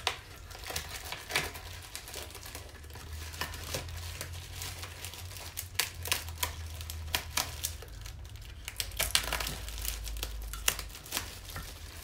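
Engine parts being unwrapped from their packaging, giving close, irregular crinkling and tearing of wrap in scattered bursts under a low steady hum.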